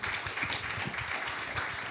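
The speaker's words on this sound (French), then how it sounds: "applaudir Guillaume Duprat et Pierre Salati" An audience applauds Guillaume Duprat and Pierre Salati after a talk on the dark universe, a brief, steady patter of hand claps with no voices over it.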